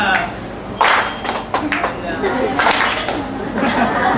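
A trainer claps several sharp, separate times at a sea lion show in Subic Bay, Philippines, and the claps sound over someone talking and crowd chatter in an open outdoor space.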